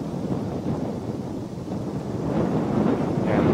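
Steady wind blows outdoors at a birding spot, a loud rushing roar buffeting the microphone and building a little stronger toward the end, with no voices over it.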